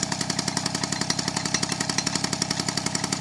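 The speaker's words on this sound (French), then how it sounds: "Voilà, joli bruit, hein, ce pot flûte, hein." A Peugeot 103 SPX moped from the 1990s idles with its flute exhaust, giving a steady, rapid two-stroke putter with a buzzy rasp, close and continuous throughout.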